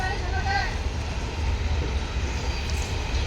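A train rumbles steadily past, a continuous low roar with faint rail noise throughout.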